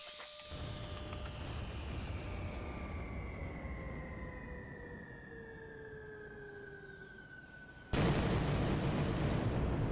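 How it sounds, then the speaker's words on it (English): Fireworks show in the video game Fisch: a sustained rumble with long descending whistling tones sliding downward, then a sudden louder burst of dense crackling noise near the end, all fairly faint. "fireworks show beginning in few seconds"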